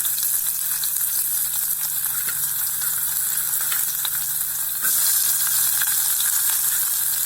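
Onions fry in hot oil in a cooker with a constant, close sizzle that rises slightly partway through, with no voices.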